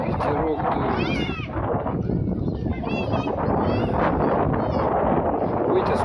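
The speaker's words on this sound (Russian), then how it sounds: "Ветерок дует." Wind gusts across a microphone on a beach, with a rough, steady roar and the clear sound of people talking over it.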